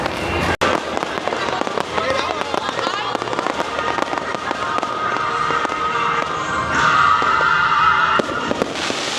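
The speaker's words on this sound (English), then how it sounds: "There's a couple fireworks." Fireworks burst during an evening show at Disney's Hollywood Studios, a sharp crack early on followed by scattered pops and crackles over a busy park crowd, with people talking nearby throughout.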